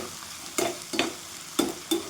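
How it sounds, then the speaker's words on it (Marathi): Potatoes, green chillies and curry leaves roast in a pan with turmeric for kande pohe, marked by four distinct scraping stirs over a soft sizzle, close and without speech. "छान भाजून घेऊया"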